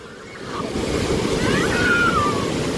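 Ocean surf rolling in at RK Beach, a steady loud wash of breaking waves with some wind buffeting the microphone, no talking.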